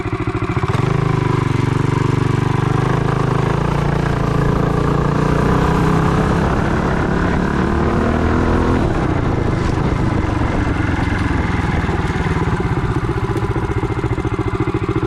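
A Trailmaster MB200-2 minibike engine runs loud and steady while riding, its pitch rising as it revs and shifting partway through, with mechanical clatter underneath.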